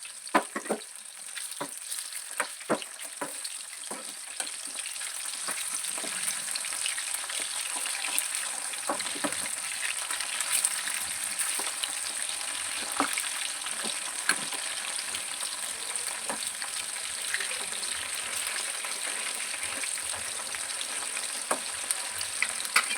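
Egg-coated chicken kebab pieces frying in oil, a steady bubbling sizzle that runs throughout, punctuated by scattered sharp pops and occasional stirring clicks.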